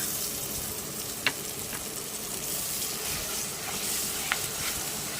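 Onion, ginger, garlic and green chili paste frying in a pan for a mutton curry, giving a steady close sizzle with a couple of brief sharp pops and no talking.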